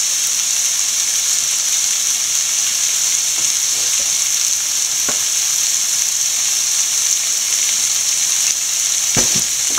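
Shrimp hit a hot pan for a shrimp biriyani and keep up a loud, steady frying sizzle throughout, with a few faint clinks and scrapes from a stirring utensil and no talking.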